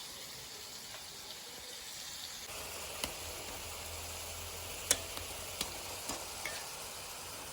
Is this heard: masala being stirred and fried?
yes